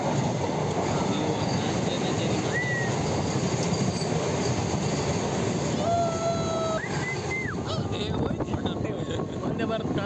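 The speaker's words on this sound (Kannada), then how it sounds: "ಒಂದೇ ಭಾರತ್ ಕ್ರಾಸ್ ಆಯಿತು" A Vande Bharat express and a local train cross close by while riding aboard another train, with a loud continuous rumble of wheels on rails, a few high squeals and a brief horn-like tone.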